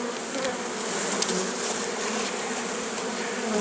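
A dense, continuous hum of many honeybees buzzing all around, steady and fairly loud, with no voices.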